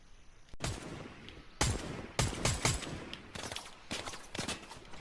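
Gunfire in the video game Fortnite: Battle Royale, with several sharp, loud shots arriving in irregular bursts, some closely spaced and overlapping, and short gaps between volleys.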